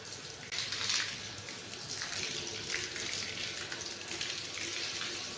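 Water splashes and runs across a garage floor being washed, a steady hissing gush that swells early and continues evenly, with no talk.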